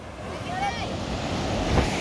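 Ocean waves wash onto a dark beach at night, a steady low roar of surf with wind rumble on the microphone and faint background voices.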